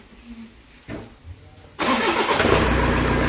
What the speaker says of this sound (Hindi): देख लो इसकी स्टार्टिंग